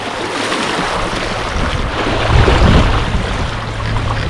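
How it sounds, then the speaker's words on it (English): Choppy waves slap and churn around a sailing canoe in Everglades National Park, under steady wind rumbling across the microphone, with a continuous loud wash that swells briefly midway. "what are these waves kicking up?"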